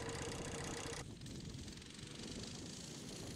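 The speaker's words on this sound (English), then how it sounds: "we'll really test out the Coleman Mini Bike" Small Coleman Mini Bike 200 engine running steadily while being ridden over a muddy, damaged road, a continuous close buzzing drone with wind noise, the pitch shifting slightly about a second in.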